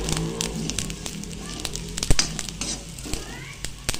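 Onions frying in oil in a pan, a close, crackling sizzle with frequent stirring clicks and scrapes, and some voice underneath.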